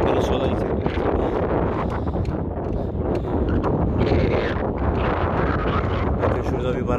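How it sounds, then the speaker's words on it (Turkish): Strong, steady wind from the Atlantic buffeting the microphone in the Mauritanian Sahara, a continuous loud roar with gusty rumbles throughout. "Daha sonra batıdan geldi rüzgar."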